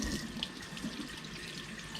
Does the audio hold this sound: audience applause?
no